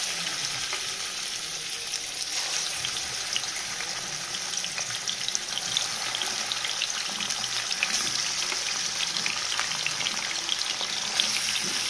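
Chicken pieces frying in hot oil, a steady close crackling sizzle that holds evenly throughout with no talking.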